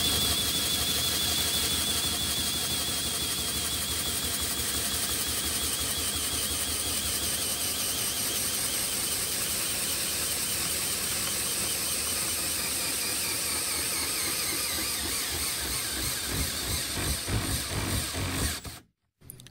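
A Milwaukee installation driver runs in low gear under load on a torque test, whining at a steady pitch with a fast, even mechanical chatter for the full length. It winds down and stops abruptly at the end.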